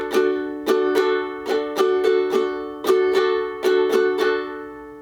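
Rhythmic strumming on a ukulele, a steady pattern of down and up strokes for a song ringing out alone, clear and close.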